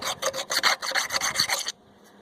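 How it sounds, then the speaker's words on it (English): A round file rasps in quick back-and-forth strokes while clearing crud from long stud holes on a 2010 Ford F250 axle hub. The gritty scraping is close and loud, then stops abruptly. "Let me get this cleaned up, but basically just a round file"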